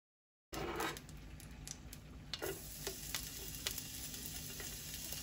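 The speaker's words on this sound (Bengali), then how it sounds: "আমার এগুলো ভালো ভাজা হয়ে গেছে" Chicken wings deep-frying in hot oil give a steady, close sizzle with occasional sharper pops and crackles, heard alone.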